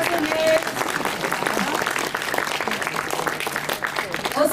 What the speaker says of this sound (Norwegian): Og så synes jeg at publikumskoret fortjener en applaus